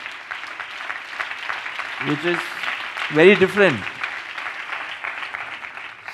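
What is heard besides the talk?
audience clapping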